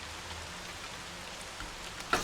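Steady rain falling in the slum streets of the video game Observer, a soft continuous hiss with no voices, ending in a brief louder splash or clatter.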